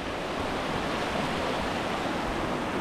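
Steady broadband rush of river water flowing on a backcountry tramp in New Zealand's Ruahine Ranges, continuous and fairly close with no speech.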